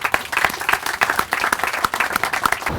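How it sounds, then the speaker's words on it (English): Crowd applause at an outdoor groundbreaking ceremony for the Ellicott City Safe and Sound North project, brisk, fairly close clapping from a gathered group lasting the whole moment. "Give yourselves a big round of applause."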